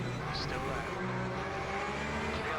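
A Corvette GT3 race car in the Le Mans Ultimate sim racing game drones steadily at full engine noise into the last turn, with tire and braking sounds blending into the continuous roar.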